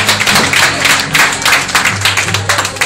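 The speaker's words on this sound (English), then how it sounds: "A round of applause, please." Guests at a wedding reception clap for the couple's first dance: loud, dense applause with a low musical hum underneath throughout.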